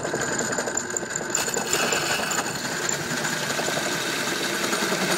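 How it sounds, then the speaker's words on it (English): A drill press fitted with a hole saw cuts through brass, giving a steady motor hum with harsh rattling and grinding chatter that continues throughout, close and fairly loud, with no talking. "I have my drill press set up with a hole saw"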